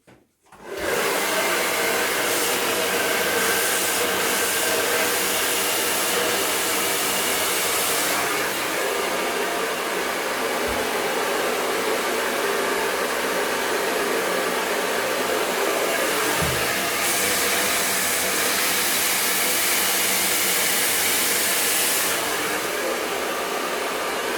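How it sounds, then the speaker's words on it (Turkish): A handheld hair dryer blows steadily at close range while styling the front sections of hair, a loud continuous broadband whoosh running almost the whole time after a brief start. "O yüzden hemen hızlıca fönle yapacağım ve size göstereceğim bunu nasıl yaptığımı."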